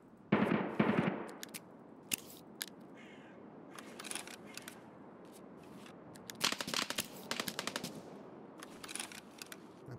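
Automatic gunfire crackles in bursts during a round of the Escape from Tarkov shooter game, sharp clustered shots at mid distance, with a loud burst at the start and more rapid volleys later, separated by quieter gaps.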